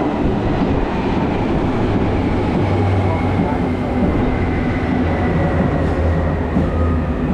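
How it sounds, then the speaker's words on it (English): A train pulls into a station in Berlin with a steady, loud low rumble and rolling rail noise throughout, and faint voices sit in the background. "Hey, the train's coming."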